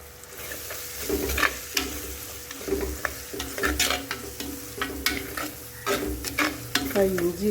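Curry leaves and chopped Mysore coriander stems hit a hot pan of egg masala base with onion, ginger, garlic and green chillies, giving a steady close sizzle broken by repeated scraping stirs, with no voices.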